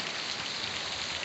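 Heavy rain pours down steadily in a kitchen at home, a dense, continuous hiss of drops on surfaces that stays even and loud throughout.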